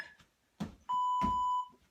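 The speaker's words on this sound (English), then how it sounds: "this is a countdown beep" A single sustained electronic workout timer countdown beep, clear and close, follows a couple of soft knocks and fades into quiet.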